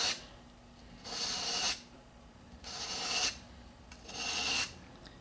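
A convex knife bevel is drawn lightly across 400 grit abrasive laid over a mouse pad, making three distinct rasping strokes about a second each with quiet pauses between.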